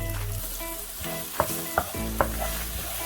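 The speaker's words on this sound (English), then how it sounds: "I'm going to add the garlic now and mix it in for a bit" Garlic frying in hot oil for wonton, a loud steady close sizzle with three brief scraping knocks as it is stirred, and no voices.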